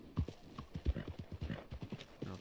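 Hooves clip-clop in a quick, uneven rhythm close by, a horse in Red Dead Redemption 2 moving at a trot with a brief snort among the steps.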